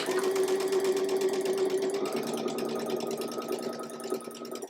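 A sewing machine stitches a tulip quilt block for a dotty sampler quilt, its steady, close whir running unbroken through the whole stretch and easing slightly near the end.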